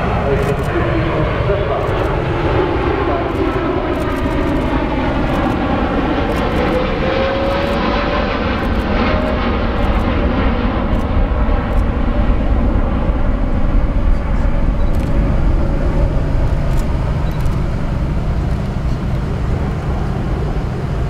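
A fixed-wing aircraft flying a display at the Farnborough Airshow produces a loud, continuous engine roar that holds steady for the whole stretch, dominating the scene.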